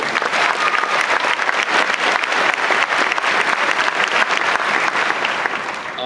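Loud, sustained applause from a graduation audience, many hands clapping in a dense, even roar that holds for several seconds before easing slightly at the end.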